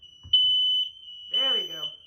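A home smoke alarm under test gives a loud, steady high-pitched tone that holds for about half a second, then a voice breaks in over the continuing beep.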